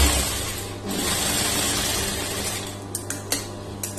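A sewing machine runs steadily while stitching a lined blouse, a continuous mechanical hum near the microphone, ending with a few sharp clicks.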